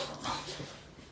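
A dachshund gives a brief whiny yip or bark indoors, close and moderately loud, a single short burst with no talk over it.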